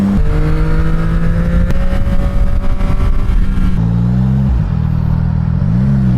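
A 675 SS car engine drones and shifts pitch as it drives and slides, with rising and falling revs and a whirring, clattering mechanical tone that stays loud and close, with no talk.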